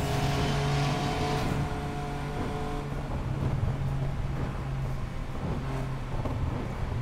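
An Aston Martin DB5 in the racing game Need for Speed Payback revs and drives at a steady, loud level, with engine harmonics holding through the clip and a brief rough texture midway, with no talk over it.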